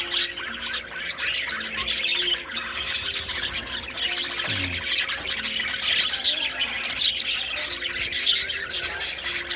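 Birds in a home aviary squawk and chirp repeatedly, close and fairly loud, with irregular overlapping calls throughout and no talk.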